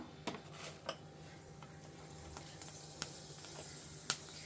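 Steady, quiet sizzling of fenugreek seeds frying in hot oil, with a few sharp pops and crackles scattered throughout.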